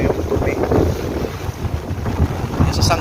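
Rough sea waves and gusting wind at a coastal sanctuary, with the steady rush of surf under loud wind buffeting the microphone and brief splashes, sounding close and continuous.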